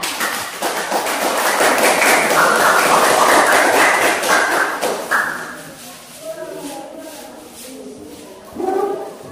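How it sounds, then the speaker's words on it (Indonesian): A classroom of students applauds group 4 after their presentation in a lesson on respiratory health, a dense crowd of clapping lasting about five seconds before it thins out into a few scattered claps. "Berikan tepuk tangan"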